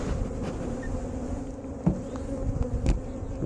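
A close, dense buzz of honeybees swarming around a hive box as a colony is split into a small three-frame nuc, steady droning with a few sharper passes near the microphone.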